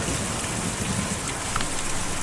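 Steady rain storm in the Kentucky Route Zero video game, a soft even hiss of falling rain with no voices.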